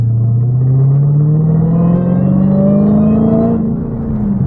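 A Dodge Challenger Hellcat fitted with a JLT Performance air intake revs up, its engine note climbing steadily in pitch for several seconds, loud and close, then easing off.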